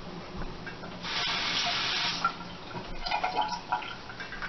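Water from a tap, used for wetting hair while it is combed out after a braid, runs in a hissing stream for about a second, then splashes and drips intermittently nearby with no speech.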